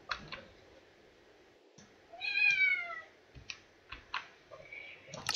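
A domestic cat lets out one clear meow partway through, close by, with faint scattered clicks and taps around it in an otherwise quiet room.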